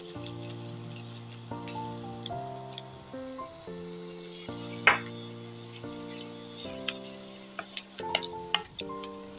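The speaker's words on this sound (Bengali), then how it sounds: "এইভাবে আমি নেড়ে চেড়ে নেবো।" A spatula stirs onion masala with yogurt for a prawn dopiaza in a pan over a low flame, giving scattered scraping clicks and soft sizzling beneath steady background music.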